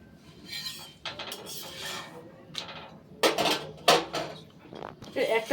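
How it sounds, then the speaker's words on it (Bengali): Rice flour roti being turned on an iron tawa over a gas flame, with several sharp metallic scrapes and clinks of a spatula against the pan in irregular bursts over a faint background hiss. "একটা পিঠ ভাজা হয়ে গেলে আরেকটা পিঠ উল্টে দিচ্ছি।"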